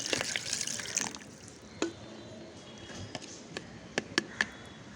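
Water splashes as it is poured and mixed into leftover stale cooked rice, a short wet rush at the start that gives way to sparse drips and small clinks in a quiet room.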